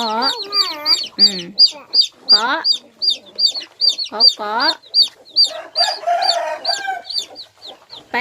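Chickens cluck steadily nearby, a busy chorus of short repeated calls with a few louder drawn-out squawks mixed in.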